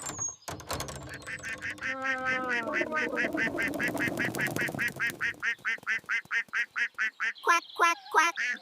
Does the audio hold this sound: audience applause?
no